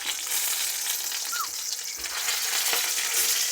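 Mushrooms and tomatoes frying in a pan for a full English breakfast, a close, steady sizzle and crackle with faint stirring, no voices.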